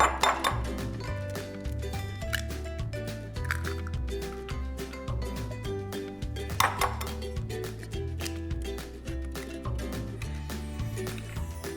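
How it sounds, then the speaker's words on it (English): Two eggs are cracked into a separate bowl, producing sharp taps of shell on the rim, a soft wet squish and drip, and clinks of bowl and utensils, close and steady with no talking. "always crack your eggs into a separate bowl just in case you get a bad egg"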